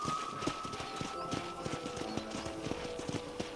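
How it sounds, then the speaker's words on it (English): Horse hooves clip-clop in a steady rhythmic gait while riding across a ranch in the Red Dead Redemption video game, moderately loud, with quiet game ambience and brief voices beneath. "let's see if you can still ride a horse"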